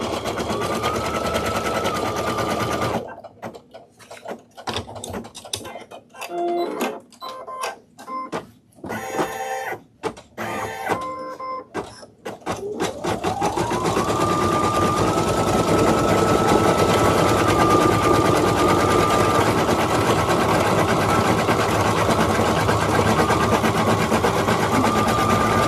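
An embroidery sewing machine stitches a design onto felt for a mask, a loud, close, continuous whirring hum with a high tone, broken by a stretch of stop-start bursts before it settles back into a long, even run.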